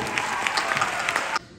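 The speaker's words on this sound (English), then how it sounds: "Can we give the Lord a hand clap of praise tonight?" A congregation gives a brief burst of praise clapping at an evening church camp service, a dense run of hand claps that stops abruptly near the end.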